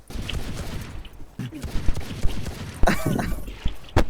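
Rapid video game gunfire bursts, sprayed shots crackling in quick succession and growing louder toward the end, mixed with game effects and a voice briefly heard over the action.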